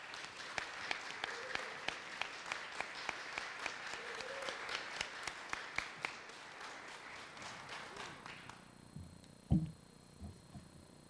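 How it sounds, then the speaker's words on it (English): Students at a university mass communication awards banquet receive a round of applause from the room: steady, dense clapping with individual sharp claps standing out, fading out near the end as a few isolated sounds follow. "Let's give them a round of applause."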